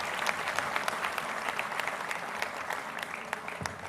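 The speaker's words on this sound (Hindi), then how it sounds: "श्रोताओं से आग्रह है कि एक बार फिर से अपनी तालियों की ध्वनि से हॉल को भर दें।" Steady applause fills a hall at an AIIMS Jodhpur convocation ceremony, a dense, even clapping from a large audience that holds throughout without a break.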